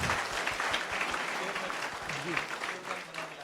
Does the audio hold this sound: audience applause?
yes